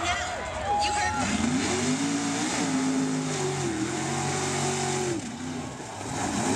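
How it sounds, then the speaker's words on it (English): A heavy truck engine revs and roars up and down, loud and close, while a voice talks over it. "That is a mud truck, I'll tell you that."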